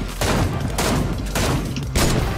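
Rapid bursts of gunfire in a video game shooter, loud close volleys of several shots with short gaps between them, sounding dense and punchy.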